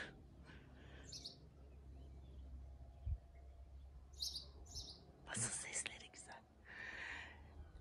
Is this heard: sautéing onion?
no